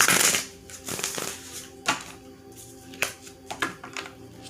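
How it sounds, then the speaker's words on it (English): Tarot cards riffle and slap together in a quick burst of shuffling, followed by several sharper, separate card snaps and flicks close by, with no talking. "So I'm gonna pull some cards"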